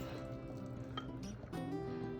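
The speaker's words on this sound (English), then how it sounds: "So you're just gonna pour that hot water right over the beans." Hot water pours over green beans packed in quart canning jars, a close, soft liquid fill with faint glassy clinks and a brief pause before the stream resumes.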